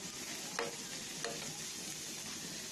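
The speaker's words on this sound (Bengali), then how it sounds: "এভাবে পুরোটাই আমি একটু হালকা ভেজে নিব" Coriander leaves lightly frying in a pan, a faint continuous sizzle with two soft scrapes of a spatula stirring, quiet and close with no talking.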